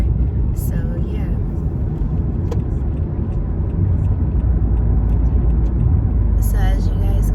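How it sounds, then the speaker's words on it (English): Steady low road rumble and engine drone fill the cabin of a car driving to a farmers market in the morning, constant and close, with a few faint voice fragments near the start and end. "I'm in my car because I'm currently going to a farmer's market this morning"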